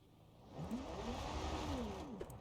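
A damaged, crushed car engine in BeamNG Drive keeps running after a crash, giving a steady mid-pitched drone that swells slightly and holds at moderate level for a couple of seconds.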